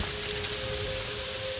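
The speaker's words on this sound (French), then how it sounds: "Eh, il pleut dehors. On l'entend. On entend qu'il pleut." Steady, dense rain falls in the video game Terraria, a continuous even hiss with a faint tonal hum beneath. It sounds constant and close, with no voices.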